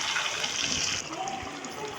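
Water pours steadily into a pot of rice for mutton pulao, a continuous splashing, gurgling stream close by that eases slightly halfway through, with no speech.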